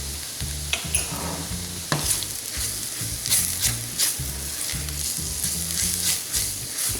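Curry powder, garam masala, turmeric and black curry fry in a pan for dal makhani, a steady close sizzle broken by rhythmic scraping stirs, with no talking.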